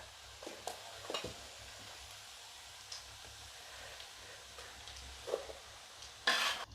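Beef pieces frying in hot oil for beef pickle, a steady faint sizzle with a few scattered scrapes and clinks of a utensil against the pan, close by with no talking.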